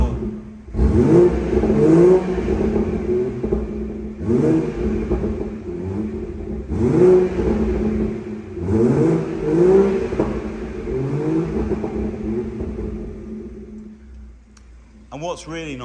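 BMW M240i fitted with an M Performance exhaust, revved in sport mode with the exhaust valve open: around six loud, nearby rev surges with burbly overrun between them, then settling to a low idle before a brief clatter at the end.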